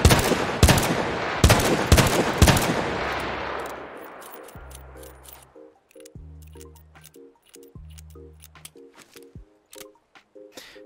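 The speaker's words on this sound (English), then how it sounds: "here is shooting and reloading" A Colt Single Action Army revolver in a Commonwealth shooter game fires several loud, sharp shots in quick succession, each booming tail fading out, then a series of metallic clicks and spinning-cylinder rattles as it is reloaded.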